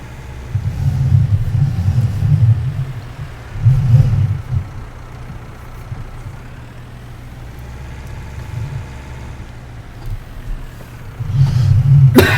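A tractor engine in Farming Simulator 19 rumbles low and steady, swelling into loud revving bursts near the start, around four seconds and again at the end.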